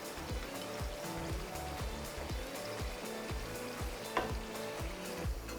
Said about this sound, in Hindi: अच्छा, इसमें मैं ऐड कर दूँगी दही, जो कि मैंने 100 ग्राम्स ली थी।